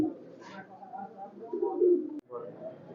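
Highflyer pigeons coo softly in a loft, a few low murmuring calls close by, with faint background noise and a brief thump.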